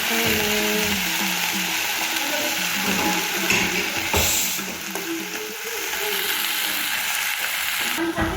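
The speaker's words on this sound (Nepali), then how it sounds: "हामीले चाहिँ साग र प्याज भुट्दैछौँ।" Greens and onions fry loudly in a pan, a continuous close sizzle with occasional scraping as they are stirred.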